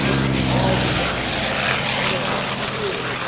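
A Corsair fighter with an 18-cylinder R-2800 radial engine drones steadily and loudly at a 1994 air show in Batavia, New York, its propeller roar constant throughout.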